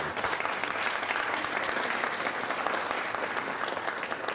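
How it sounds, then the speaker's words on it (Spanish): An audience at a panel discussion applauds Dr. Atilio Álvarez with dense, steady clapping that fills the room for several seconds and carries no talk over it. "un aplauso por favor para el doctor Atilio Álvarez"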